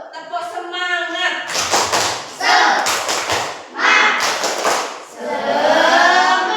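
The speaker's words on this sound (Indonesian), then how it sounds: "Tepuk semangat." A group performs a rhythmic spirit clap, sharp bursts of hand claps and thumps coming in clustered patterns, interleaved with loud voices chanting along up close.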